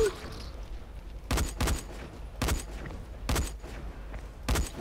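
Repeated gunshots from a first-person fight in the zombie game Dying Light, set at a construction site: four loud, sharp bursts spaced about a second apart, each with a booming low thump.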